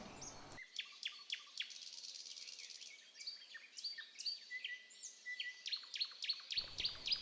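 Cartoon bird chirping: a run of quick, high tweets and short trills, fairly close and clear, repeating irregularly over a quiet background with no talk.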